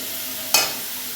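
Boiled matar dal tipped into a hot frying pan, a sudden loud burst of sizzling and stirring that flares at once and then settles into a steady fry.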